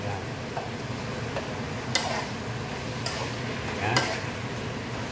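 Shrimp frying in a pan for home-style adobong sitaw, a steady soft sizzle with occasional clinks of a utensil stirring against the pan, fairly quiet and mostly alone with little talk.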